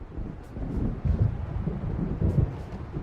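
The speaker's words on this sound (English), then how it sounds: "It seems there's a storm coming." Distant thunder from an approaching storm in the video game Alan Wake rumbles low and steady, with soft gusty wind noise and a couple of heavier rolls swelling midway.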